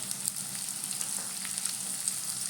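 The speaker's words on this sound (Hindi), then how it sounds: "गैस का फ्लेम मीडियम होना चाहिए, नहीं तो हमारे मसाले जल जाएंगे। और इसे थोड़ा पका लेते हैं।" Amla with spices cooks in a pan over a medium gas flame, giving a continuous close sizzle with light crackling pops and no speech.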